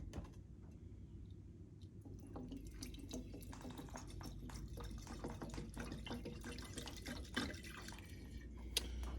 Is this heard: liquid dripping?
yes